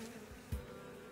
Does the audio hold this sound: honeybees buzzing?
yes